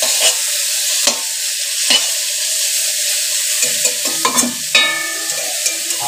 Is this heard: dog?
no